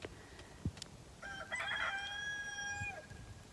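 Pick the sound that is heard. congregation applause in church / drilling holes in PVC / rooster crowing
rooster crowing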